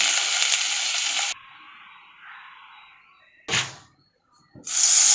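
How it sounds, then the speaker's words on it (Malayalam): Chopped garlic fries in a pan on low heat, with loud sizzling bursts that cut off and return, separated by a quieter hiss and a brief silence. "ഞാൻ വെളുത്തുള്ളി ഇട്ട് കൊടുക്കാം."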